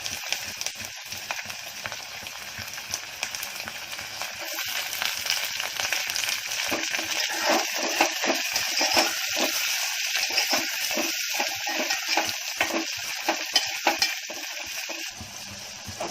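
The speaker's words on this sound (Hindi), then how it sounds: "अब इसमें अपनी झींगा जाएंगे।" Prawns frying with onions in a pan give a dense, crackling sizzle, broken up by repeated scraping and stirring strokes that grow busier and louder in the second half.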